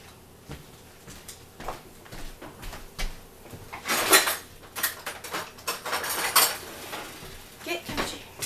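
Metal cutlery rattles and clinks against dishes as a spoon is fetched in a home kitchen, a run of close, uneven jangles that builds in the middle, with faint background voices.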